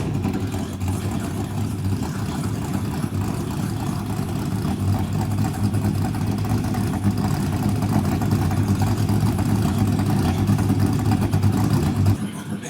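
Brad Keselowski's 2011 Penske Dodge Charger NASCAR stock car engine runs steadily at idle, a loud, rough, continuous rumble heard close up that cuts off at the end.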